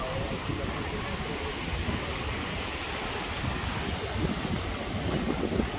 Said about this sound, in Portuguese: Mas o vento tá fresquinho